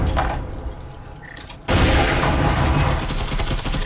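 Rapid gunfire fills a shooter video game match, a quieter stretch of scattered shots giving way after about a second and a half to a dense, loud barrage of overlapping fire that continues steadily to the end.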